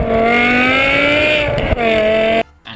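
A BMW E60 M5 engine revs hard in one loud, sustained, high-pitched wail, its tone climbing steadily, dipping briefly and then cutting off abruptly near the end.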